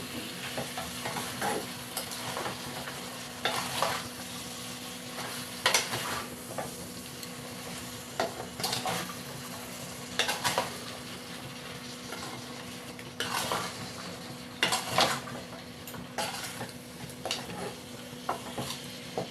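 A vegetable curry is stirred and sautéed dry in a pan without water, with continuous sizzling under repeated scraping and clinking of a metal spoon against the pan, close and steady, no voices.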